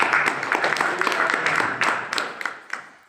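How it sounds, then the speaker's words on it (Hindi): Audience applause at a motivational talk, a steady wash of many hands clapping across the whole stretch, fairly close and full, tapering off slightly toward the end. "एक बार जोरदार ताली बजा दीजिए"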